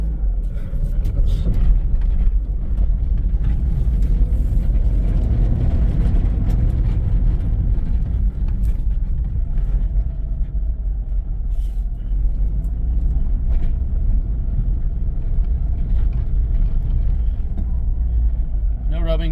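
A Hyundai Accent with freshly rolled fenders creeps along at low speed, its steady, close engine and road rumble droning without a break, with no rubbing noises standing out.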